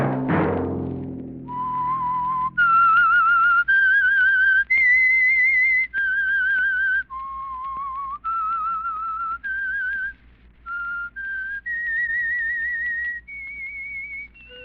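A clear whistled melody of sustained, sliding notes, played alone in a slow phrase after a brief low thud at the start, the signal tune of an old radio program.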